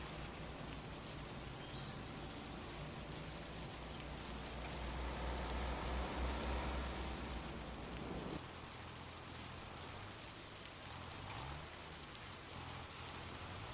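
Steady rain hisses and patters in the video game Farming Simulator 25. It swells in the middle and then thins to a lighter shower, with no talk over it.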